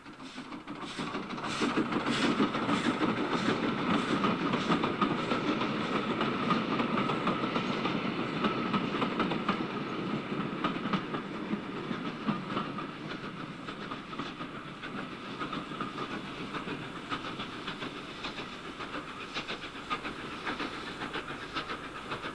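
A train pushed by a 4F locomotive at the rear rumbles over a crossing near Templecombe at moderate distance, wheels clicking rhythmically over rail joints with a steady hiss and mechanical clatter.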